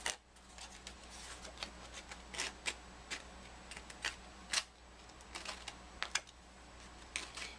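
Light, irregular scratchy ticks from a small hand file run along the edges of white-core cardstock, quiet and close with short gaps between strokes.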